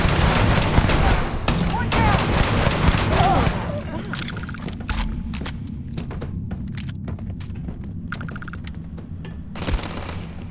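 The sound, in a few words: robot opening fire with guns, Starfield video game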